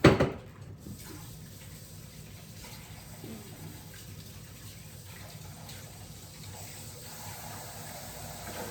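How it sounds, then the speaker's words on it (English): Tap water runs steadily into a kitchen sink while hands are washed between preparing onions for a hamburger steak and potato casserole, a close, even wash that follows a brief clatter at the start. "let me wash my hands"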